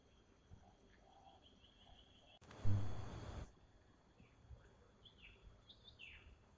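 A wild sirtu (cipoh) bird sings in a natural outdoor setting, with soft high chirps and insect-like trills scattered through quiet ambience, briefly interrupted by a loud broadband burst of noise.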